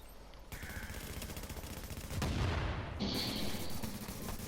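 Gunfire in The Division, sharp reports starting abruptly and followed by a heavier burst of shots and booming impacts, loud and continuous through the short stretch with no talk.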